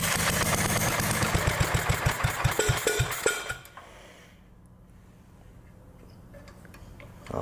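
An old crawler tractor engine, running without its air filter, chugs loudly with a rapid ticking rhythm, then drops abruptly to a quieter, smoother idle that continues for several seconds.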